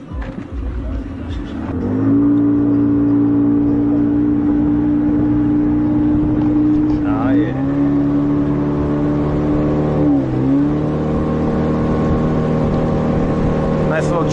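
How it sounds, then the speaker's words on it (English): A motorboat engine drones steadily and loudly on the Suriname River, its pitch dipping briefly a couple of times, with faint voices in the background. "we gotta get on the boat"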